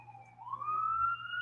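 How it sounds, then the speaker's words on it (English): An emergency vehicle siren wails outdoors at a distance, a single rising tone held steady, faint against the quiet. "The moment you start the podcast, you got sirens everywhere."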